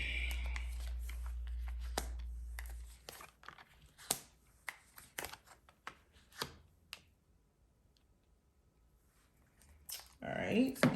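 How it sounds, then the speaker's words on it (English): Tarot cards being shuffled and laid out during a reading, heard as a steady riffling burst followed by scattered soft slaps and clicks as cards are placed one by one, with a voice starting up near the end. "Lay your cards out."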